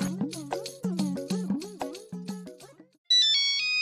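A mobile phone rings with a bouncy melodic tune, then switches to a bright, steady electronic tone, loud and close with no talking.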